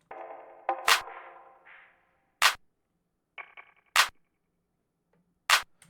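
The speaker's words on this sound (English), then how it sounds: "So this is the clap by itself." Clap sample played solo in an FL Studio emotional piano beat, four sharp, bright snaps evenly spaced about every second and a half over a soft piano phrase.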